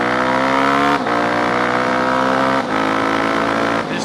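A motorcycle engine held in first gear during a hard break-in, revving loud and steady with a strong rising whine, dipping briefly at two shift-offs before climbing again.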